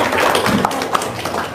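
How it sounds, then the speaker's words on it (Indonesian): Scattered hand claps from a small group at an Islamic religious talk, a short burst of uneven taps close by with no talk over them. "Tepuk tangan dong."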